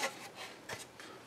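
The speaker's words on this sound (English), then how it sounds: "I'll probably just scrub them down real good with a paper towel" A paper towel scrubs parts of an Epson HX-20 computer under repair, heard as a few short, faint rasping rubs close by in a quiet room.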